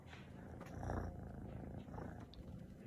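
A cat purrs close up, a continuous low rumbling hum that swells slightly midway, steady and soft with no talking over it.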